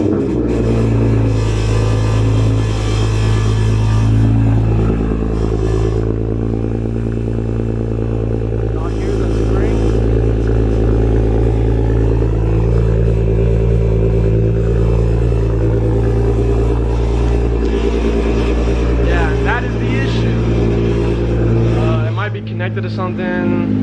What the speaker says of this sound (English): let's go ahead and turn on the car so I can show y'all what the problem is